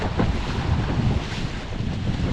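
Strong wind buffets the microphone while windsurfing at sea near cliffs, a constant loud rushing roar mixed with water and waves, with no voices.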